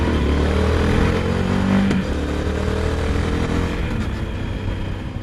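A Triumph Speed Twin 1200 motorcycle fitted with Akrapovic slip-on exhausts runs with a loud, steady engine note close by. A brief throttle blip rises near the start, then the engine settles back, with no voices.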